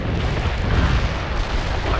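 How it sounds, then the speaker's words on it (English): Artillery barrage in the Soviet campaign of the real-time strategy game World in Conflict, a continuous low, heavy rumble of overlapping shell explosions, dense and noisy without distinct individual blasts. "Launching a barrage. Commencing the barrage."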